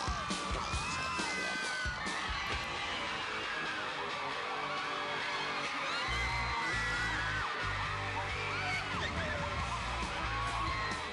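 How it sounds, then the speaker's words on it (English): Fans scream and yell at a band outside a tour stop, a dense, loud wash of crowd shrieks and whoops running continuously, with occasional bangs and low rumbling underneath. "They were just out there just to scream at us."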